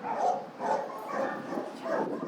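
Dogs bark repeatedly at an animal shelter, several rhythmic barks and yips at mid distance, somewhat muffled and echoing.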